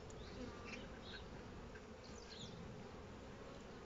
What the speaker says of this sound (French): les quelques abeilles qui se sont déjà posées sur la trappe sont bien dégagées